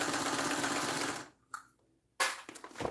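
A sewing machine runs in a steady, loud buzz for about a second, then stops, with a short whir and another brief burst of stitching after a pause.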